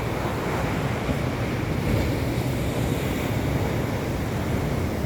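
Sea waves crash steadily on the shore at Kappil beach, a dense, continuous roar of surf mixed with wind buffeting the microphone, with no voices.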